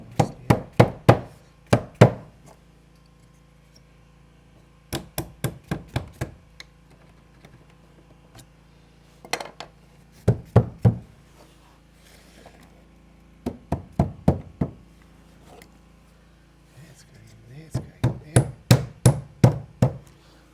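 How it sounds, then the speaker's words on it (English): Wedges being hammered into wood in an off-grid African setting: sharp, loud metallic strikes in quick bursts of three to six blows, separated by short pauses, with no talk. "Just get a couple of wedges going here."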